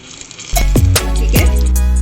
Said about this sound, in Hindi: इसका कलर गोल्डन आने तक हम इसको फ्राई करेंगे